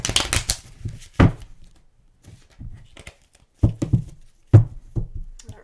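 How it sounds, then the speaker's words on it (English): Tarot cards are shuffled by hand in short, crisp bursts of riffling and slapping, separated by quiet pauses. "I don't really like that shuffle."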